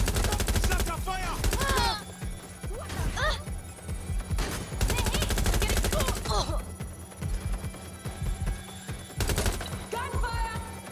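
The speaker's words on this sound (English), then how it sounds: "Gunfire!" Bursts of rapid gunfire in Watch Dogs: Legion crackle in several loud volleys, separated by brief pauses with faint shouting and background effects.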